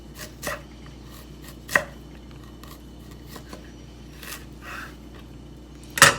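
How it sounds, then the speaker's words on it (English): A knife chopping fresh ginger into strips on a cutting board, a few sharp isolated cuts spaced irregularly, close and crisp, the last one loudest. "Once your ginger is clean, we're going to go ahead and cut it into strips"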